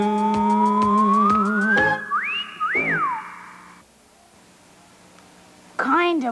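Whistling rises in a long, sliding tone over a bouncy musical accompaniment, then swoops up and down in a couple of bends before fading, with a brief wavering whistle near the end.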